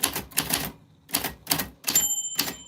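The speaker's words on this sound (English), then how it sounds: "that's how your name sounds on the typewriter" A typewriter types out a name in quick clusters of sharp keystrokes separated by short pauses, ending with a ringing bell-like tone near the close, alone and close up.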